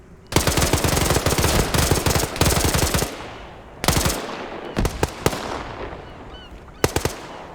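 Rapid automatic gunfire bursts in a multiplayer shooter video game, loud sustained rattling volleys broken by pauses and sharp single shots, with no talk over them.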